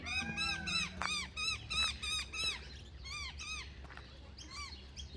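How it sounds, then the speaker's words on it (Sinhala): A peacock gives loud, repeated squawking calls outdoors on a farm in South Australia, with several harsh cries in quick succession close by and a few fainter calls afterward. "පීකොක්."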